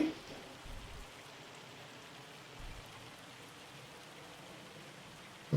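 Rain and hail fall across a farm in Farming Simulator 25, a continuous soft hiss of drops on surfaces holding steady throughout at a low, even level.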